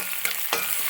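Duck curry masala frying over a medium flame, Kuttanad-style Kottayam cooking, with a spoon stirring through the sizzling pan in a couple of quick scrapes, close and steady.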